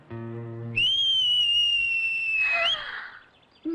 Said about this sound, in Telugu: నువ్వే కదా విజిల్ వేసింది